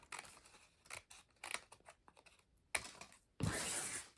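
Scissors snip through paper to shape a rounded swoop for a homemade Christmas package bow, several close crisp cuts at uneven intervals ending in a longer sliding slice, with no voices.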